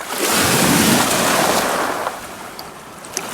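Lake Superior waves break and splash against a rocky shore, a loud broadband wash that swells early, then recedes into a steady surf hiss with light wind noise.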